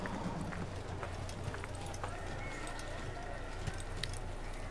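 Horse hooves from the video game Assassin's Creed clip-clop in a steady running rhythm over a constant low game drone, with occasional faint background sounds and no talk over them.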